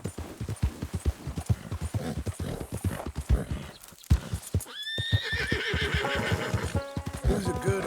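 Horse whinnying near and loud in Red Dead Redemption 2, a long rising-falling neigh in the latter half, preceded by a steady run of hoofbeat clip-clops.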